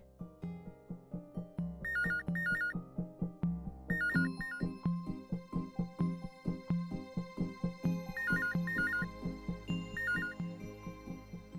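A phone ringtone repeats in a looping electronic melody, clear and steady, with no voices over it.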